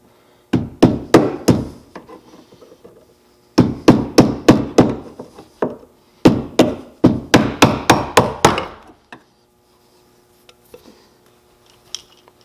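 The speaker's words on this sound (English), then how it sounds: "you are gonna need to tap out this bolt that the C-clip goes through" A hammer taps out the rear wiper bolt on a third-generation 4Runner in three quick bursts of sharp metallic strikes, close and loud, each burst holding about four to seven rapid blows.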